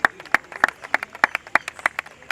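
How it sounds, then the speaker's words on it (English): Audience applause at an evening media anniversary celebration, a sparse scattering of individual claps with sharp, distinct hits, moderately close, thinning rather than a full roaring ovation. "someone else gets more applause"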